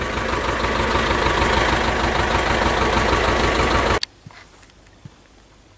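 A tractor drives through a rapeseed field while spraying. Its engine gives a loud, steady, close drone that cuts off abruptly, leaving near silence with a few faint clicks.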